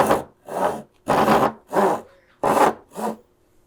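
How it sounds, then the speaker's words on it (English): Hand saw cutting into wood with push strokes, six distinct rasping strokes in an even rhythm, close and clear with short pauses between them. "I like to start with a push cut, just to establish a little bit of a kerf before I get the full resistance from the teeth"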